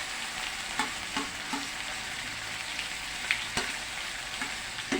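Tomatoes fry with pork in a pan, giving a continuous soft sizzle broken by several light scrapes and taps as the food is stirred.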